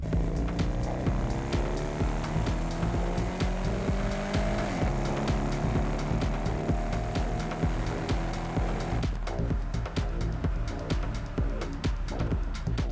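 Car engines in a film sound mix from The Fog Realm drone and rise in pitch, with several overlapping motor tones that swell and then drop away near the end, steady and fairly loud.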